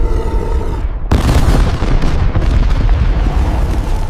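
Heavy cannon fire in a war setting rumbles loud and close, a continuous thundering roar broken by a sharp blast about a second in and further booms after it.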